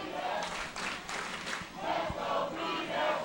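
A crowd cheers at an open-division Ultimate frisbee final, with chanted shouts from a group of spectators rising and falling over a steady, fairly distant roar and a few scattered claps.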